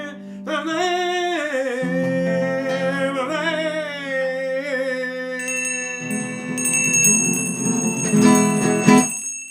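A small bell rings during a Viennese song livestream, its bright, sustained tones joining a steady melodic instrumental line and growing denser and more insistent toward the end.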